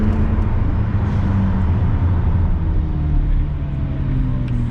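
A McLaren supercar accelerates past another vehicle on an empty London road, its loud, steady engine roar climbing gradually with road and wind noise close around it.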